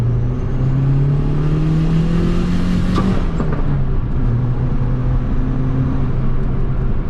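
A turbocharged Honda D16 engine on stock ECU roars loudly and close in second gear, revving steadily higher as the car accelerates, with a faint turbo whistle over the drone.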